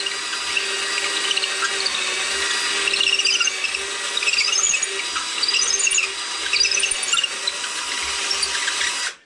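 Power drill with a bit the same size as a dowel widening a hole in wood, a steady close whine running continuously with faint scraping and squealing bits, cutting off at the end.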